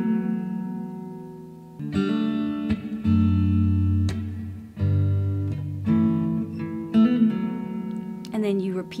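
Fingerpicked acoustic-style guitar notes, with hammer-ons and pull-offs, form a steady, moderately quiet pattern of plucked bass and treble notes, played close with no voice over it.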